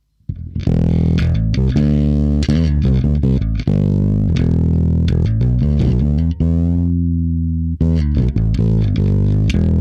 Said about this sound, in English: I hear the overdriven, but I'm also hearing like the attack on the strings